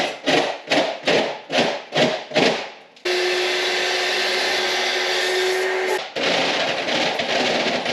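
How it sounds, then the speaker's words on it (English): A corded Sawzall reciprocating saw rips through a rotten wooden sill in a 130-year-old house, starting with six short rhythmic bursts, then one loud sustained cut of about three seconds, then more ragged cutting, all close and with no talk. "I'm probably gonna rip it with a just a regular old Sawzall."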